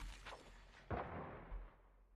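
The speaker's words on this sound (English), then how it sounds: "Grenade out!" A grenade blast in the mobile shooter Call of Duty Mobile: one sharp, fairly quiet burst with a brief rumbling tail. A second, smaller thump follows, and there is no talk.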